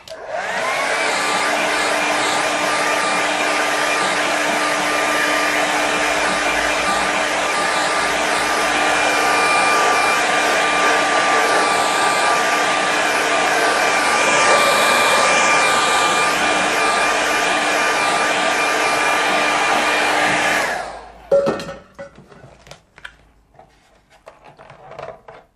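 A hair dryer blows steadily and close for about twenty seconds as it dries a watercolour winter landscape painting, then shuts off, leaving faint scattered handling sounds.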